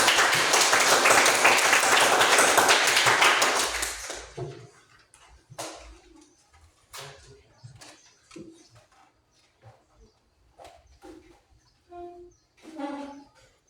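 A classroom of students bursts into loud, dense clapping for a classmate, lasting about four seconds before it stops abruptly, followed by quieter scattered sounds and a few voices.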